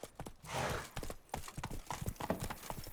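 Roach, a horse in The Witcher 3: Wild Hunt Blood and Wine, clip-clops at a quick pace with repeated hoof strikes, some close and loud, along with a brief snort or whinny. A steady wash of wind-like noise sits beneath the hooves.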